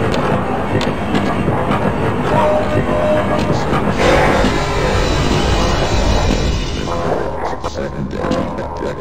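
A train ride in the Half-Life video game: a loud, steady rumble with rattling and clanking that holds throughout, with no voices.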